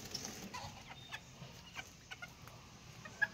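Quiet, scattered clucking from chickens, short soft calls spaced unevenly over a low background hum.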